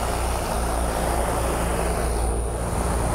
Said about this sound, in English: Fans on.